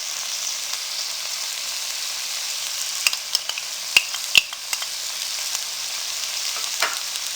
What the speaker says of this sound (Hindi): लो फ्लेम पे हम इन तमाम चीज़ों को फ्राई करेंगे